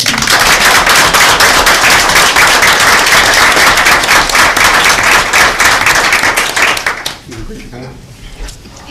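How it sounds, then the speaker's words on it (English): Vigorous applause fills a board of education meeting room, a loud sustained clatter of many hands for about seven seconds before tapering off into quiet murmurs and scattered claps. "Let's give her a round of applause."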